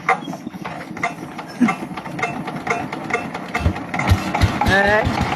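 A Sifang 195 model single-cylinder diesel engine, just serviced, starting up and idling with a rapid, close, rhythmic knocking chug that grows steadier and louder, while a voice speaks briefly over it.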